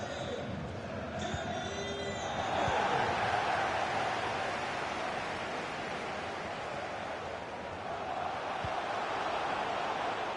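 A stadium crowd roars in the FC24 football video game during a Germany match, a broad, continuous wash of cheering that swells after a couple of seconds and then holds at a moderate, distant level.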